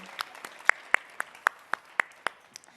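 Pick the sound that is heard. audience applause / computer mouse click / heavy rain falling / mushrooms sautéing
audience applause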